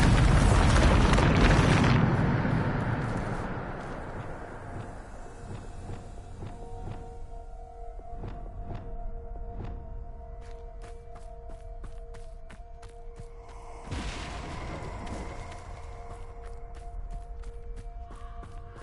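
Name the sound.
Bombarda spell explosion, Harry Potter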